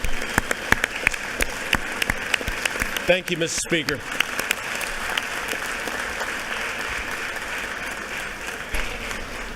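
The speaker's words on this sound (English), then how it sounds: "rise to give a round of applause for our scouts" Legislators in the Georgia state capitol chamber give a round of applause for visiting scouts, dense clapping filling the room steadily while a voice speaks briefly over it partway through.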